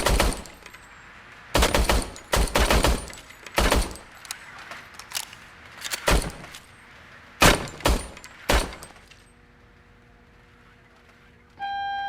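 Gunfire from a service weapon in a Robocop video game: a series of loud, sharp, separate shots and short bursts spaced irregularly across several seconds, then quiet.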